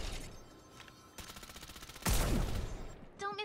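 Gunfire in the battle royale game Farlight 84: a faint patter of shots gives way to sharp, rapid bursts of automatic fire, loud and close, followed by chirping electronic interface tones near the end.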